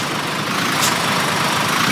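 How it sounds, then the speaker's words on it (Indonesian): A Mitsubishi Canter truck engine labours uphill in a steady, dense low drone, close and loud, with no voices over it. "ini udah pakai mesin 2500 horsepower, tapi masih aja tuh berat kayak gini"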